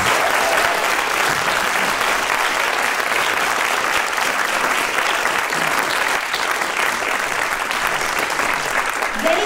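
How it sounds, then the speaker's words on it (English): An audience at an arts panel discussion gives sustained, even applause for the speakers on stage, a dense steady clatter of many hands that holds for the whole stretch. "please give me a round of applause for these incredible leaders."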